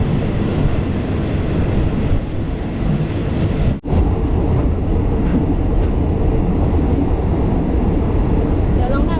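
A train on newly opened double-track continuous welded rail in southern Thailand rumbles past in a loud, continuous roar with almost no rhythmic clatter from the rails, briefly dipping before carrying on steadily.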